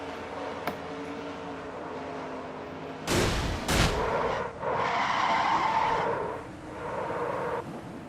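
A stock car spins out during a NASCAR-style racing video game race, a sharp burst of tire skid and engine noise breaking over a steady race-car drone, followed by a sustained scraping, sliding roar.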